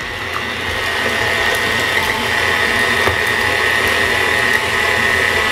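An electric stand mixer beats chocolate birthday cake batter from scratch, a steady, loud motor whir with a constant high whine that runs unbroken throughout, with no talking.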